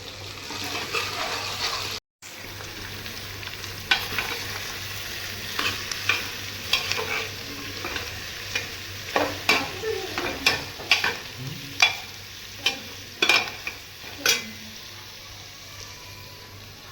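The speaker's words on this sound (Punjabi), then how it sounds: "ਪਿਆਜ਼ ਆਪਾਂ ਪਾ ਦਿੱਤੇ ਆ ਤੇ ਪਿਆਜ਼ਾਂ ਨੂੰ ਵੀ ਆਪਾਂ ਪੂਰਾ ਬਰਾਊਨ ਕਰਾਂਗੇ" Onions browning in hot oil in a pan for mutton, with garlic and ginger already in, make a steady close sizzle that runs throughout, broken by a brief dropout and by frequent sharp scrapes and clinks of stirring that grow more frequent later.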